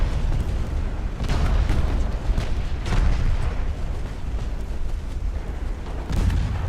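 Naval guns firing high-explosive shells in Ultimate Admiral: Dreadnoughts, a rapid series of booming shots and blasts overlapping in a loud, rolling barrage.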